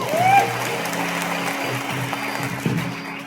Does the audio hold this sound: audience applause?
yes